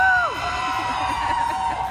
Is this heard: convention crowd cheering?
yes